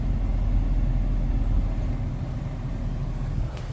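A car engine idles steadily after a cold start on a freezing mountain morning, a low continuous rumble that stays even and fairly loud throughout, with no one talking over it.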